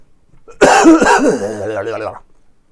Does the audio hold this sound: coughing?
yes